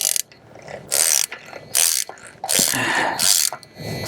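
A ratcheting special tool loosens the wheel bearing nut on a Ford Bronco in four loud bursts of rapid clicking separated by short pauses, close by with light background noise between strokes.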